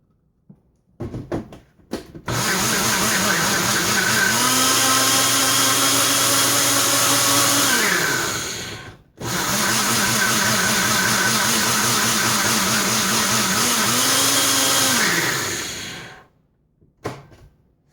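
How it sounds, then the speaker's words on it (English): An electric blender whirring through oatmeal waffle batter in two long bursts of roughly six seconds each, with a rising and falling motor pitch and a brief pause between runs. "So now that we have it all blended up"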